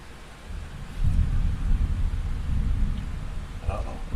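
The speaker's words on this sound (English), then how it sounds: "We just heard thunderstorm." Low rolling thunder rumbles through a thunderstorm, building after the first second and holding steady, with a faint patter of rain on top and no voices.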